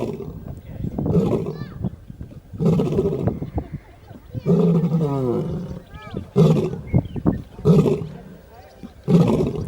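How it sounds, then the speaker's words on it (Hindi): A lion snores in deep, rasping, rhythmic pulses, each long rumbling breath separated by brief pauses, loud and close, repeating about six times. "आज हम आपको सुनाते हैं शेर के खर्राटे, जो कि उसकी दहाड़ से भी तेज है।"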